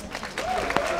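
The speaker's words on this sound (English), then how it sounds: "Applause for Yanis Varoufakis." Crowd clapping at an outdoor pro-Europe rally in central Berlin, a short burst of applause with a voice and a whistle-like tone over it.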